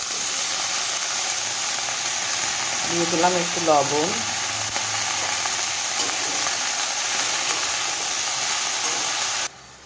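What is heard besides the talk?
fenugreek greens frying in a pan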